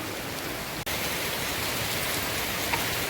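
Heavy monsoon rain pours outside a window, making a dense, even hiss that stays steady from start to finish apart from a momentary dropout near the beginning.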